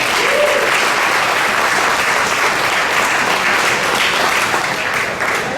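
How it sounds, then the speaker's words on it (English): An audience honoring an elderly elected official at a 90th birthday gathering breaks into dense, sustained applause, a loud, steady wash of many hands that holds evenly throughout and dips slightly at the very end. "Get applause for that."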